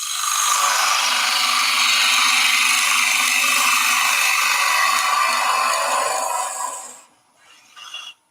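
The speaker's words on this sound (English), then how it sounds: "So just doing a little depth cut with the bowl gouge." A bowl gouge taking a depth cut into wood spinning on a lathe gives a loud, steady, hissing shear for about seven seconds, then drops away, with a short softer scrape just before it ends.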